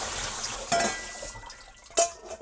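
Water emptied from a pot of cooked noodles for Korean soy sauce noodles, heard as two sudden gushing splashes of pouring water, the second sharper, against a quiet kitchen background.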